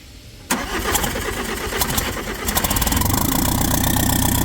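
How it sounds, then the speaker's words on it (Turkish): A Fiat Doblo engine cranks roughly for a couple of seconds after a brief silence, then catches and settles into a loud, uneven, pulsing run. "zor bela çalışan bir doblomuz var"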